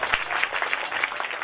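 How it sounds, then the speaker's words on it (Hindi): An audience at a devotional Krishna Maha Raas Leela stage show applauds to welcome a donor, giving a brief burst of dense, steady clapping with no voices over it. "जोरदार तालियां बजाकर इनका स्वागत करें।"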